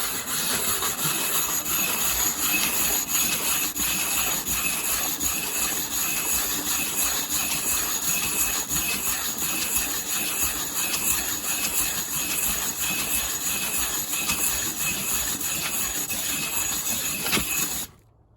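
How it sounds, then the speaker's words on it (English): Sandpaper is pressed evenly against a wooden goblet spinning on a lathe, giving a continuous rough rubbing hiss over the motor's steady whir for about seventeen seconds before cutting off. "this is the most efficient method to sand. You put equal pressure on all angles."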